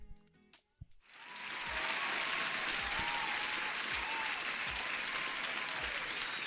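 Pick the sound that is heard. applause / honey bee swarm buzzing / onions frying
applause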